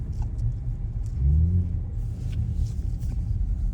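An Audi RS4 climbs a narrow Alpine road in the Austrian mountains near Obergurgl, heard from inside as a steady low engine rumble that swells briefly as the throttle opens, then settles back to an even drone.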